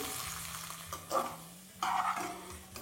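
Okra fries in a kadai with a low sizzle, while two louder bursts of stirring and scraping rise briefly over a faint steady hum, close and without talk.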